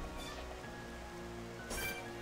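Rain falls steadily in the Xenoblade Chronicles Definitive Edition game world as a soft, even patter under game ambience, with a couple of brief brighter splashes.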